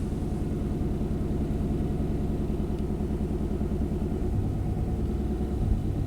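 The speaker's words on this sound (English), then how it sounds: "You end up with a high idle, 1500 RPM." A 1991 Chevy K1500 pickup engine held at a high idle near 1500 RPM, a steady loud low rumble with an even throbbing pulse and no other sounds.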